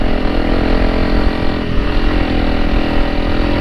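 A Honda CRF300L Rally motorcycle putts along slowly over rocks and ruts on a dirt trail, its single-cylinder engine a steady, loud, close low rumble throughout.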